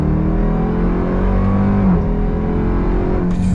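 A 2024 Dodge Durango SRT Hellcat runs with a loud, steady supercharged engine roar while driving, and the engine note shifts pitch as it downshifts.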